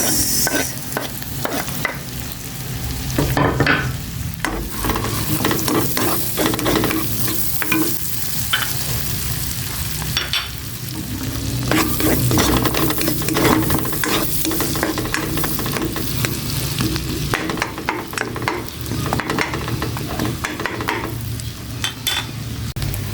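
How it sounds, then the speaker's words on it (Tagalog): Garlic and onion sauté in a hot pan, a steady continuous sizzle with frequent scraping and stirring clatter from a utensil, close and loud throughout with no talking. "igisa ko na itong bawang. Ayan, bango. Sibuyas."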